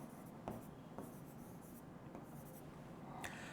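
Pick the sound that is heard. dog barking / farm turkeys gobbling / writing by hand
writing by hand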